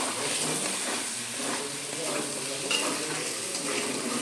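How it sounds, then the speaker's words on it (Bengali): Spice paste fries in oil over a medium flame for a paste-based potato and paneer curry, sticking to the pan as it's stirred; a steady close hiss and sizzle runs throughout, with faint scraping and no voices. "কষা হচ্ছে আস্তে আস্তে করে লেগে লেগে যাচ্ছে মিডিয়াম ফ্লেমে থাকতে হবে"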